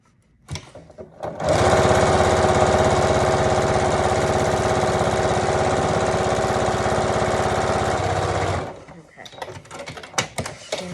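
A sewing machine stitches fabric for a Yup'ik kakivik parka cover, running in one continuous fast whirring burst for about seven seconds before stopping, with faint handling noises on either side and no speech.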